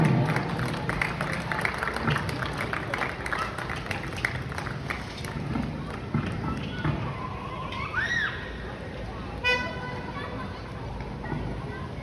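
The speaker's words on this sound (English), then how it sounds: "Let's have a round of applause, guys." Audience applause and crowd noise at a football awards ceremony, a dense, steady wash of clapping and cheering lasting throughout, with voices mixed in and a brief whistle-like tone near the end.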